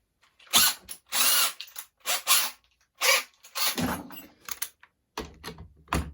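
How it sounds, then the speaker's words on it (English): A power drill removing long screws whirs in several short bursts with brief pauses between, close and loud, ending with a lower grinding run. "Let me just get a drill because these screws are going to take fucking ages to come out"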